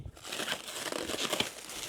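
Packaging around a Boulder 3010 preamplifier being unwrapped, a brief burst of close, crisp crinkling and rustling of plastic wrap, fairly quiet and unbroken by speech.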